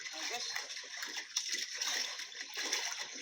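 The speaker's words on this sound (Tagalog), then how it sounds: "Siya yung agos ah. lakas ang agos." Strong river current rushing steadily during a fishing trip, a broad continuous wash of flowing water with small splashes, with voices talking now and then over it.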